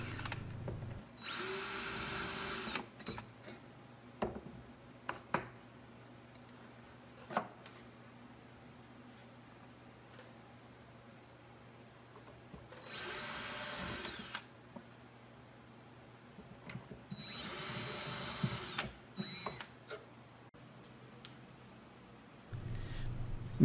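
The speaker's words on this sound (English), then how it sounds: "What I do is hold the jig in place, grab my drill bit with the VIX bit," Several bursts of a power drill boring hinge holes with a VIX self-centering bit held in a Rockler hinge jig, loud whirring runs of a second or two separated by quiet handling clicks, with a steady low hum underneath.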